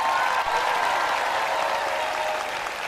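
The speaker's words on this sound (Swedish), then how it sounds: "hjälp mig med en varm applåd för Skansenorkestern under ledning av Kjell Öhman" A large open-air Skansen sing-along crowd claps warmly for the Skansen orchestra, a thick steady roar of applause holding at the same level throughout.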